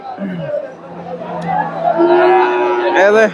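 A cow lets out a drawn-out moo amid a crowd's chatter at a cattle market in Bangladesh, with a person talking nearby over the lively market hubbub.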